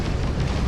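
Missiles launching and exploding during a space battle in the game Starfield: a loud, dense rumbling roar that fills the whole brief moment without a break.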